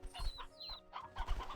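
Hens cluck in the Slime Rancher 2 video game, a few short, close, bright clucks with a rising squawk in the middle and no speech.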